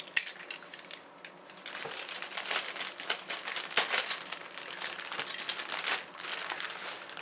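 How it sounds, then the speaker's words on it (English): Plastic bags holding parts of a 1:350 Polar Lights Star Trek Enterprise refit model kit are cut open and handled, giving steady close crinkling and rustling with small snips and crackles. "Give me a second so I can cut the bags open."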